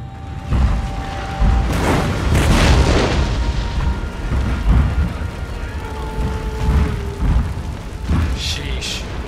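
Cannon fire in the Total War: Shogun 2 battle game, repeated deep booms and rumbling blasts over a noisy battlefield din, loud and close, with a voice talking over them.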